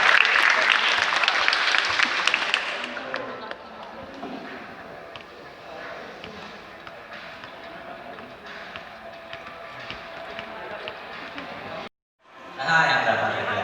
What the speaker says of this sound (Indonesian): Sekali lagi tepuk tangan buat Arya